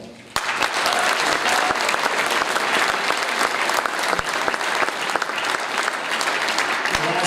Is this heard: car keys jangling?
no